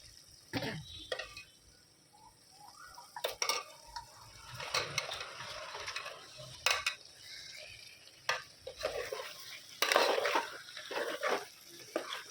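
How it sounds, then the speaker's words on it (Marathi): Pieces of goat head being stirred into a spicy Savji-style masala in a pot, intermittent scraping and spoon knocks with soft sizzling between, moderately close, no talk. "छान मिक्स करून घेऊ आणि 5 मिनिटं छान मसाल्यामध्ये शिजवून घेऊ."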